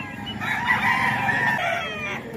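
Fighting cocks at a handler's pen in Tondo crow loudly and cluck, several birds overlapping in a dense, continuous chorus close by.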